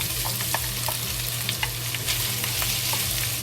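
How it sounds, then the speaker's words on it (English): Ginger and ham fry in hot oil, a steady close sizzle with scattered scraping stirs from a utensil in the pan, no voices. "the oil is ready. So we put the 1 teaspoon of ginger into it, chop the ginger into it, and slowly fry"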